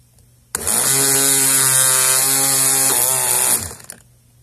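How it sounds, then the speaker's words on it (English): A Dremel rotary tool spins steadily at high speed for about three seconds, a loud, even whine with a sharp start and stop while shaping security lock pins, with no talking. "the Dremel may be spinning too fast"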